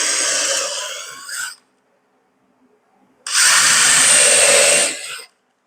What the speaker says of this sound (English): I'd recommend you pre-drill the holes, because this close to the end, it's going to split this wood.